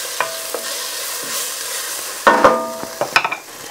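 Chopped garlic sizzles in a hot pan with browned fond from chicken for tinga, a steady close fry broken by several scraping stirs and spoon knocks toward the end.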